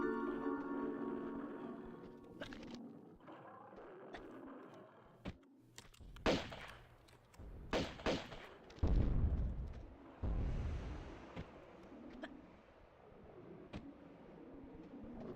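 Gunshots fired at a T-Rex in Tomb Raider 2, a handful of loud, sharp bursts with low booms spread across the middle of the clip, against quieter game ambience and music.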